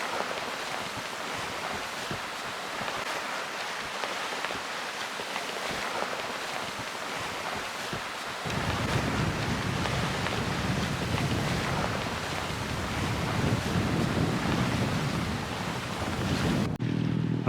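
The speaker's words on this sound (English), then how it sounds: "At last we got some wind, so we got 19 knots now." Steady wind rush and breaking waves surround a sailboat, the Zephyr IV, making 19 knots of wind at sea; the roar is continuous and loud, deepening midway with heavier low water noise, with no talking.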